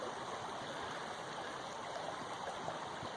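Creek water flowing steadily at a stream crossing, a continuous even wash of rushing and trickling sound close by with no voices over it.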